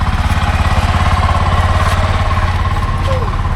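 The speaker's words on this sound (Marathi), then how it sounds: "तर आम्ही आता रिक्षा पकडली आहे" Auto rickshaw engine running loud and close during a ride, a rapid pulsing putter with steady rhythm throughout, with a voice speaking briefly over it.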